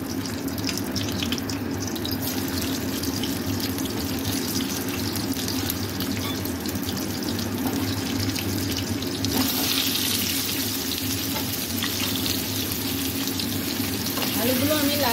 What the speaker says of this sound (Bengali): এখন আমি আলুগুলো ফ্রাই করে নেব।